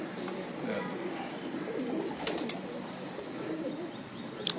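Flying pigeons in a loft coo softly and continuously nearby, low burbling calls under a steady noisy background, with a few brief sharp ticks near the end.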